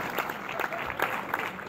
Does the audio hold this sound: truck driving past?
no